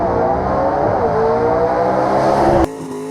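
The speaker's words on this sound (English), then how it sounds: "Listen to that boy shift them gears in that old hoopty wagon." An old gasser wagon in C-Gas drag racing at Knoxville, Tennessee roars at full throttle, its engine note climbing through a gear change before cutting off sharply near the end, loud and close.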